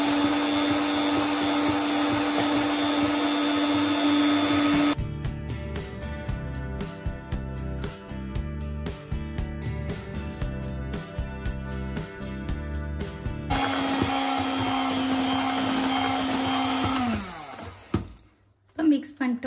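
An electric hand mixer whirs loudly while flour and baking powder are beaten into vanilla cake batter, with a steady motor drone that shifts pitch midway and cuts out near the end.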